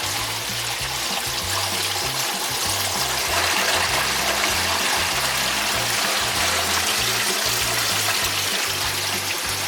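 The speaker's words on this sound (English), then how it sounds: "Now that's letting water into the black tank to flush it out" Water rushing and trickling into an RV black tank during a flush at a campground hookup, a steady close gush with faint gurgling pulses underneath, no voices.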